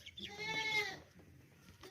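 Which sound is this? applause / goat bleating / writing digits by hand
goat bleating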